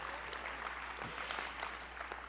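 Applause from a large assembly fills a hall as a soft, dense clatter of many hands, heard faintly and evenly throughout over a low background hum.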